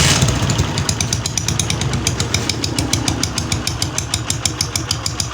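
Honda CG 125 motorcycle engine idling with a damaged, leaking exhaust pipe, giving a loud, close, rapid, even putter with a raspy ticking edge; a steady rhythmic chug with no voices.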